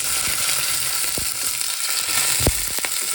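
Curry leaves and dried chilli sizzle loudly in hot oil for a Kerala-style stir fry of pole beans, a dense constant hiss broken by several sharp crackles and pops close to the pan.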